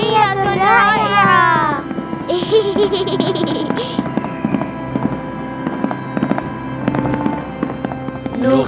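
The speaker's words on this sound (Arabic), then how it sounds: "سبحان الله، ألعاب نارية رائعة." Cartoon fireworks in an animated Islamic children's show burst and crackle over a bright musical score, with loud pops and fizzing through most of the stretch and childlike laughter mixed in.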